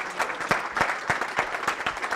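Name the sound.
audience applause after talk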